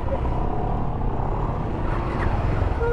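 A car overtaking on the Malshej ghat mountain road produces a loud, steady engine and road rumble, close by and continuous throughout.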